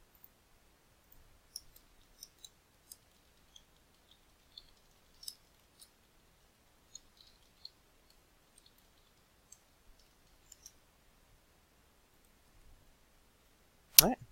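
A mouse clicks to save a website setting: faint, scattered clicks tick sparsely in near-silence, then one sharper, louder click lands at the very end.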